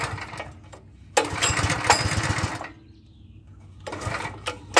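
Simpson 4000 psi pressure washer with its gas engine running, buzzing in loud close bursts that surge and drop back between them, with a rough mechanical rattle and no talk.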